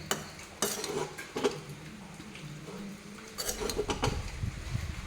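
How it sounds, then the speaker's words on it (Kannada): Shavige being stirred in a pan after coriander leaves are added, with a spoon scraping and clinking against the pan in irregular strokes, close and moderately loud, with no talking. "ಸ್ವಲ್ಪ ನಾನು ಕೊತ್ತಂಬರಿ ಸೊಪ್ಪು ಹಾಕ್ಕೊಂಡು ಮಿಕ್ಸ್ ಮಾಡಿಕೊಡ್ತಾ ಇದ್ದೇನೆ"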